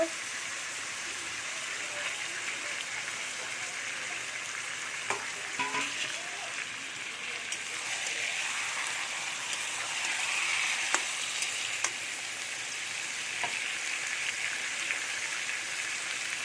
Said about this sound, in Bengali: মাংসগুলো আমি দিয়ে দিচ্ছি এরপরে মশলা আমি আস্তে আস্তে করে দিয়ে দেব